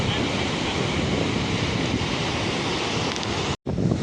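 Ocean surf rolling in at Laadghar beach, Dapoli, heard as a steady, loud broadband wash with wind buffeting the microphone, briefly cutting out near the end.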